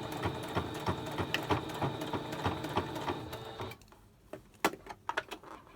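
A home sewing machine back stitching folded pleats on a fabric face mask, its rapid steady needle chatter running for a few seconds before stopping, followed by scattered light clicks and handling taps.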